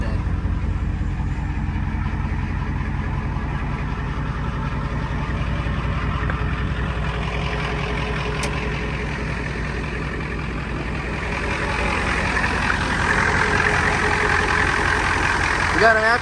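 A 1991 Ford F350 crew cab diesel with an aftermarket Banks turbo idles steadily up close, a low rumbling drone holding for the whole stretch with some brightening near the end, while people talk over it.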